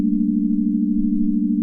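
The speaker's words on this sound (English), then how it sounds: "So we can even really just start with the sine wave right here." A pure, steady synthesizer sine wave tone hums at a constant low-mid pitch, smooth and unwavering, loud and alone for under two seconds.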